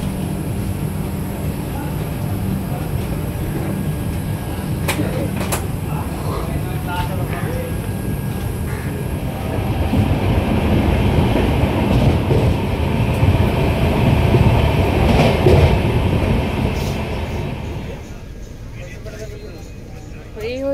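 Steady rumble and clatter of a passenger train running on rails, heard from inside a coach on a long-distance journey, continuous and fairly loud with a swell midway, people talking over it.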